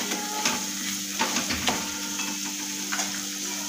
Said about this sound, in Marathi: तेलामध्ये मसाले व्यवस्थित परतवून घेत आहे